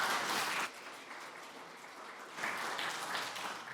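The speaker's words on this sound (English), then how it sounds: "let's give her a round of applause." Audience applause at a book conversation event, a dense patter of many hands clapping that eases off in the middle and then swells again, moderately distant in the room.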